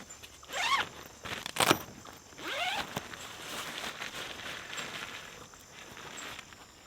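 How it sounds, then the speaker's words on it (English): Short tent flap zipper pulls rasp twice near the start, then a longer zip follows, with faint rustling and a steady high hum behind. "a large flap that is secured by zippers and Velcro"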